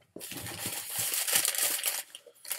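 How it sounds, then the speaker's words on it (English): Gift wrapping paper crinkles and tears as a present is unwrapped up close, in a steady run of crackling rustles with small sharp crunches that carry on for a couple of seconds. "Oh, I like the wrap paper."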